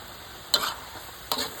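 Vegetables are stir-fried in a pan, with two short bursts of stirring and sizzle over a faint, steady background hiss.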